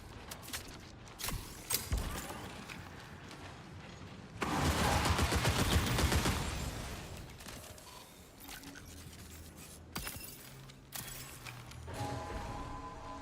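Gunfire in a video game, a burst of dense shots mixed with clicks and mechanical clatter, loud and close for about two seconds, with sparser sharp pops scattered before and after.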